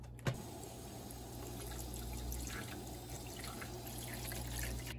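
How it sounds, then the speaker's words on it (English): Water runs steadily over a removable part of a Levoit LV600S humidifier during a quick, gentle rinse, a continuous close splashing wash with a small knock near the start and no talking. "So I'm just going to do a quick rinse at this"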